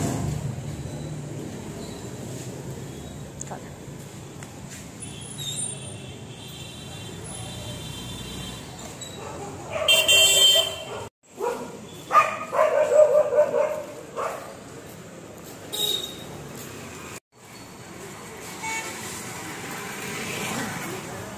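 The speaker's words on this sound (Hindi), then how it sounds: "तुम्हारे डॉगी को देख के मेरे बच्चे भौंक रहे हैं।" Street dogs bark and yip in short bursts partway through, with people talking and background noise around them.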